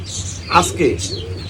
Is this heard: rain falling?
no